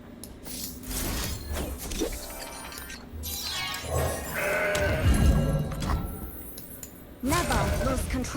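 Goat bleats from a Mountain Goat card in a Legends of Runeterra-style card game, a few wavering cries rising over game music and effects, with someone talking throughout.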